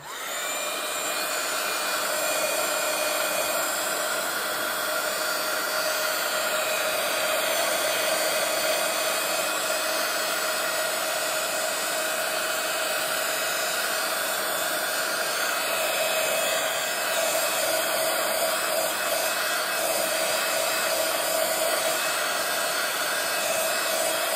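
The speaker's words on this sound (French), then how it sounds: "je vais sécher avec le heat gun pour pouvoir continuer à dessiner mes petites étoiles" A heat gun blowing over wet watercolour paint, a steady loud whirring airflow with a whining tone that holds constant and close for the whole stretch, no speech.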